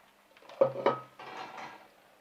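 Fried garelu, red-brown lentil fritters, set into a bowl in a home kitchen: a couple of soft clinks and knocks close by, then light rustling handling, with no talk.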